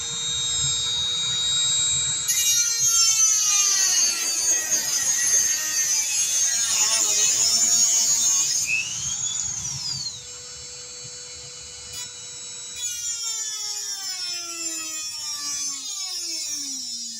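Filing and grinding at a cut in the rail of a model railway layout's drop-leaf hatch, a shrill whirring tool sound that rises and falls, then drops to a quieter pitch for the second half.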